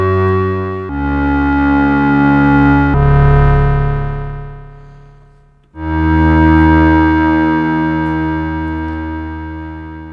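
An Analogue Solutions Fusebox analogue synthesizer plays sustained, buzzy, harmonically rich notes shaped by its ADS envelope. Each tone swells in, holds and then dies away, with a new note starting after a brief dip, loud and alone.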